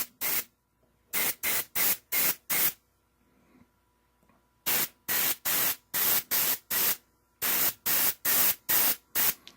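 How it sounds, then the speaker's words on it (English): A spray gun mists a light coat over a decal on a model wheel in short repeated bursts: two clusters of four or five loud hissing blasts separated by a quiet pause, each burst about half a second long and close by. "So I'm gonna spray at around this height to make sure that we're gonna have only a fume"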